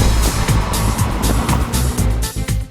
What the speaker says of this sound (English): Now the 4-cylinder turbo engine isn't the nicest sounding in the world. It isn't very sporty, it's a bit wheezy and whiny.